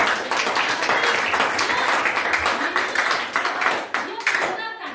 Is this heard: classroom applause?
yes